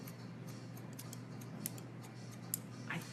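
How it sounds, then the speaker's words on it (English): Long hair-cutting scissors snipping through hair at a salon, a few crisp close metallic snips spaced out over a quiet background hum. "Yes, long scissors for me because I like to go in and"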